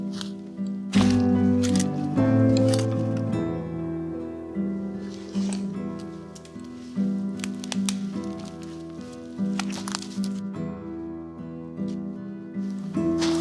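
Footsteps squelch through a thick, soft, waterlogged floor of overgrown woodland with fallen trees and pockets of water, a close, loud series of wet squishing steps with irregular rhythm and rustling between them.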